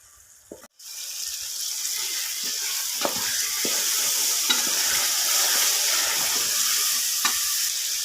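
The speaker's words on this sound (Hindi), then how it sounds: "भूनते हुए अंडिया की लुक देखें।" Food frying in oil in a pan, a bright continuous sizzle that starts after a brief bump and runs loud and close, with occasional sharp clinks and scrapes of a stirring spoon.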